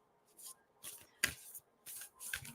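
Playing cards are shuffled by hand in several short rustling, riffling bursts separated by brief pauses, close and fairly quiet, during a full-moon livestream.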